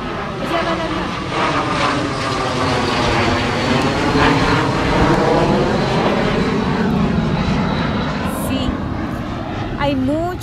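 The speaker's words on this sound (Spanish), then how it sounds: "en este momento hay ruido de los aviones" A loud airplane roars overhead, its pitch sweeping as it passes, with a person speaking faintly under the noise.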